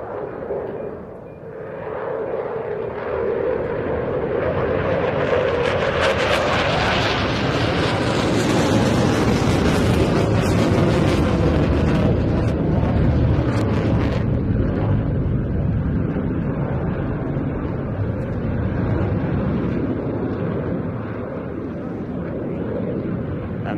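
A Royal Air Force Eurofighter Typhoon FGR 4 jet passing at an air festival display, its engine roar swelling loud and broad, then fading slightly while staying strong, with wind buffeting the microphone.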